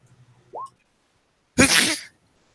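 A single loud, close human sneeze bursts out abruptly in a quiet room, preceded moments earlier by a short vocal sound.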